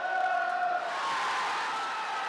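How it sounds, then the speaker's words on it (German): Liverpool fans cheering in a pub, a dense crowd roar with whoops and shouted voices, loud and sustained, with a couple of bellowed tones early that blend into a steady wash of cheering. "Noch einmal jubeln."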